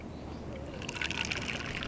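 Hot water pours into camping tea ware nearby, a gentle trickle building into a fuller, bubbling stream.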